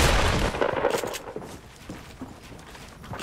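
Gunfire in the battle royale game Fortnite, a burst of heavy shots at the start fading into scattered lighter pops and thuds, close and loud at first, then quieter.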